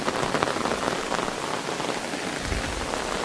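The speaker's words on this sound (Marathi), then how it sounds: "फुल पाऊस आहे आपल्याकडे." Heavy monsoon rain pours down over paddy fields in Konkan, a dense, steady hiss of downpour drumming on surfaces throughout, close and loud with no voices.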